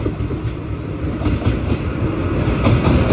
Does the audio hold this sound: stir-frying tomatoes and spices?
no